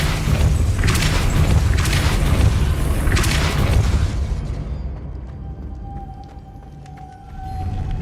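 In the Hogwarts Legacy video game, a Depulso force spell bursts out as a loud, deep rumbling boom. It rolls on for several seconds before thinning into a quieter hum with faint distant chimes.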